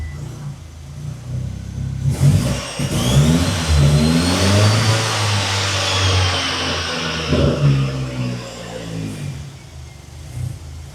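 A Mercedes 190E fitted with a ZF8HP eight-speed gearbox revs up on a downshift, the engine note swelling and holding at close range, then easing back toward idle, with no voices.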